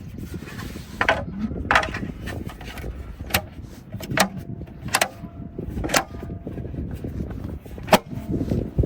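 A matte black 18-inch plastic hubcap is pressed and clicked onto the rear right wheel of a Tesla Model 3 Highland, giving a series of sharp close snaps and knocks amid softer rubbing and handling noise, with no talking.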